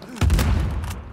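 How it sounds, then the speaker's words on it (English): Loud explosion from a thrown grenade bursts in survival-mode combat in Uncharted 4, with gunfire crackling around it in one short, dense burst. "Grenade."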